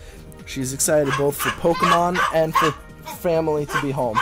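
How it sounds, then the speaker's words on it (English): A dog barks repeatedly in excited, rhythmic bursts with some whimpering yips, fairly close in a home, while a person talks over it during a Pokemon X and Y online battle. "As you can hear my dog barking in the background,"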